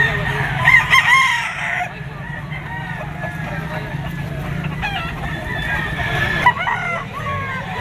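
A bull stag rooster crows at close range at a Lipa auction market, with clucking and other fowl around it and someone talking in the background.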